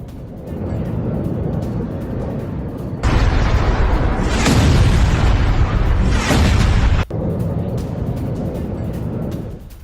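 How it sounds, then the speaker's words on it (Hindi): Missile strikes hit a residential area of Nahariya, a loud sustained roaring blast of several seconds rising above a constant rumbling background before cutting off abruptly. "मिसाइल से रिहायशी इलाकों में धमाके हुए।"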